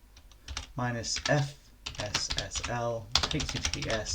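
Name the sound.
typing a terminal command on a computer keyboard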